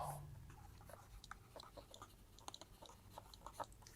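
A pen writes on paper during a maths lesson, making close scratchy strokes and light taps in short, irregular bursts in a quiet room with no talking.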